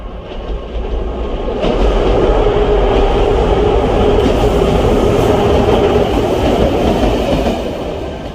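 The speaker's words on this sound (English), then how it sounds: "the train was approaching" A train approaching through a railway tunnel, a heavy rumbling roar with wheel clatter that swells quickly and then holds loud and close for several seconds before easing slightly.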